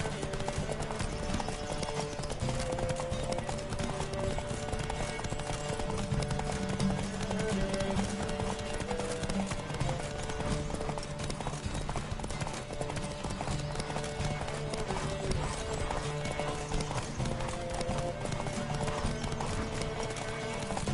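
Rapid hoofbeats of galloping horses in The Witcher 3 video game pound steadily throughout, with an occasional whinny over a constant background of rushing motion.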